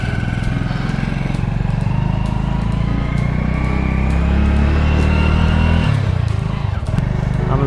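A motorcycle engine runs loud and close for the whole ride, a steady rumbling drone that rises and shifts slightly as the bike moves along.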